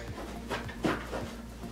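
A dog pants close by in short rhythmic breaths, with a faint whimper, over a steady low indoor hum.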